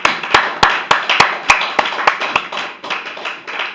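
Church congregation applauding, a few rhythmic sharp hand claps close by, steady at first then blending into looser scattered clapping.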